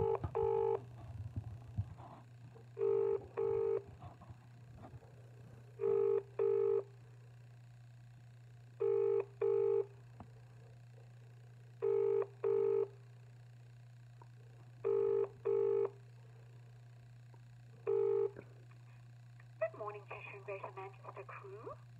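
Telephone keypad dialing tones sound in evenly spaced paired beeps over a steady low hum on a call back, followed by a brief burst of faint phone-line noise at the end.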